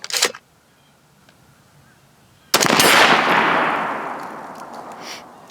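A single loud rifle shot from a Joint Force SPR fired at a target about 102 yards downrange, preceded by a brief sharp sound and followed by a long fading echo.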